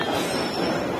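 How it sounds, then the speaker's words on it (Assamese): A train passes close by, giving a dense, steady rumble and rolling rail noise that holds evenly through the whole brief moment, with no voices over it. "এইফালে ট্ৰেইন আহি গ'ল"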